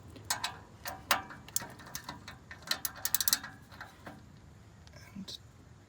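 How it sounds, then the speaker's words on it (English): A ratchet loosening the oil filter on a Subaru during an oil change, heard as a quick run of sharp, close clicks with brief gaps between them. A quiet voice murmurs underneath. "just push it on, connect your ratchet, and twist it off"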